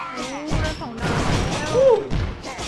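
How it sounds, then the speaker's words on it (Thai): Cannon fire and explosions from the Clash of Clans video game come as a few dull thuds and bursts at moderate level, with game effects and a faint rising tone in between. "มีการวางระเบิดอู้หู้ปืนใหญ่ทางนู้นก็ยิงมาทางบ้านมัน"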